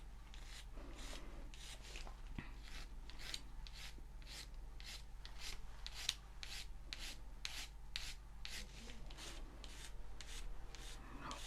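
Teeth being filed in a dentist roleplay, a steady close rhythmic rasping of repeated strokes, soft and intimate, with no talking.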